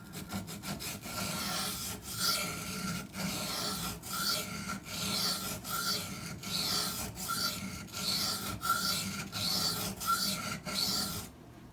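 Steady, evenly paced strokes of a Cold Steel Demko AD-15 knife blade across a sharpening stone, each pass about a second long, close and fairly soft, with no voices.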